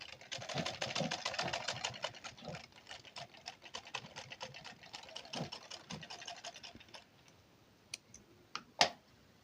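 A sewing machine running a folded blouse hem, heard as a quiet, close patter of rapid stitches that slows into scattered clicks and taps near the end.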